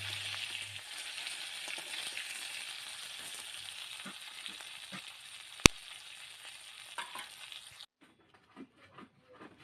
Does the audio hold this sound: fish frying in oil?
yes